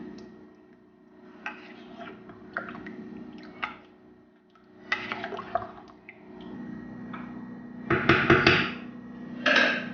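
Coconut milk poured into rendang and stirred, with wet clinks, taps and sloshing from the pot and utensil, scattered at first and then louder, busier stirring toward the end.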